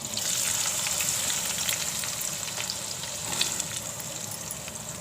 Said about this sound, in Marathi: आता कांदा घालते.